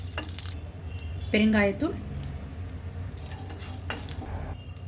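Mustard seeds, dried chillies and curry leaves sizzling in hot oil, a steady crackling fry with light stirring while a person talks briefly over it.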